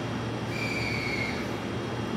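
A JR E231 series commuter train on the Ueno-Tokyo Line, a local service to Atami, sits at a station platform, giving a steady low rumble with a faint high whine and no talk.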